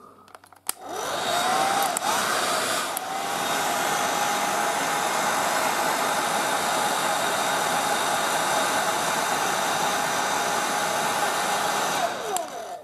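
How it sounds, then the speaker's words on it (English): A hair dryer blows steadily at close range against a heat detector during an alarm system test, a continuous broadband whoosh with a whining tone that starts abruptly, runs unbroken and cuts off near the end. "So we're going to test the heat detector now with a hairdryer."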